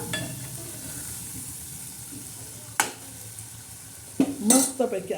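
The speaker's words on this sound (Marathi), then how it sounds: "एकदा आपण चांगलं पुन्हा हलवून घेऊया" Peanut usal masala with green chillies and coriander being stirred in a pan, a soft background sizzle with a sharp utensil scrape midway and a cluster of clattering spoon-against-pan knocks near the end.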